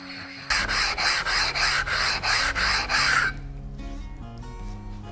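Waterstones for sharpening woodworking plane irons and chisels rubbed flat in steady back-and-forth strokes, about seven rhythmic gritty passes, close and loud, then stopping.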